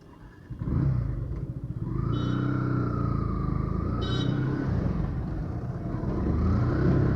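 A Yamaha FZ S FI Version 3.0 BS6 motorcycle being ridden, its engine settling into a steady, close droning rumble with a brief rise in pitch, running continuously throughout.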